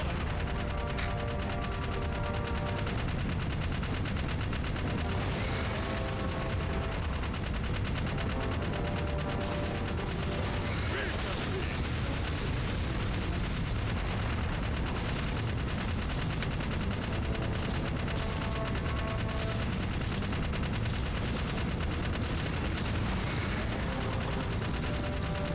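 Rapid gunfire from a video game as an enemy is shot, a dense, continuous barrage of shots mixed with game sound and music, loud and sustained throughout.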